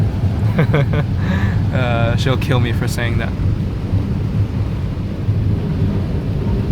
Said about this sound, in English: the rain doesn't always pour down like this every day